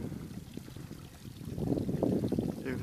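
Spring fountain on a forest trail with water pouring and trickling nearby, a soft uneven splashing that swells slightly toward the end.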